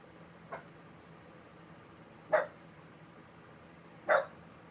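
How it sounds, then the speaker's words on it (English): A dog barks three times at night with long pauses between, the first bark faint and the last two louder, over a quiet room hum. "No reason to be barking like that."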